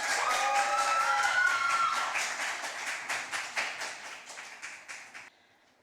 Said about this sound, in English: we can keep that applause going for Miss Jaleesa Graham